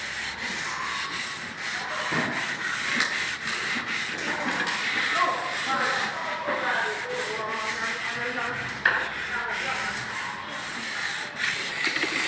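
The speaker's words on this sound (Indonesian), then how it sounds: "kalau ditemukan ada yang bergelombang, segera dilakukan amplas ya" Steady abrasive rubbing of sandpaper on body filler on a bus, continuous back-and-forth scraping at close range with no voices.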